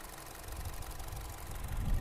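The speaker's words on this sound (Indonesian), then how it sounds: "suara mesinnya tidak ngelitik, stabil, langsam" A 2015 Honda Jazz RS or 2012 Honda Freed PSD engine idles steadily with no knocking, giving a continuous low, even hum heard close up with no speech.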